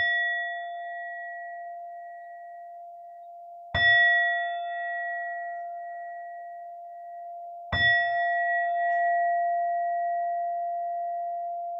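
A meditation bell rings three times at even intervals, each strike clear and near with a bright onset and a long, slowly fading resonant tone, with no voices in the quiet between strikes.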